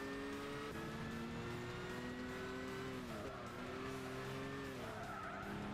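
Race cars lapping the Brands Hatch circuit in Gran Turismo 6 on PS3, engines droning steadily with shifting pitch as they accelerate and change gear, with tire squeal and skidding throughout.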